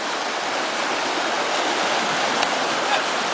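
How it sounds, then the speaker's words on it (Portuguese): Strong water rushes steadily down an improvised homemade slide, a loud continuous broadband gush with no pauses and no talking. "Realmente a água é forte."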